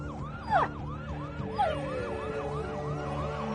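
An ambulance siren wails in a repeating rising-and-falling pattern as it approaches, moderately loud with a couple of brief sharp accents, and no talking over it.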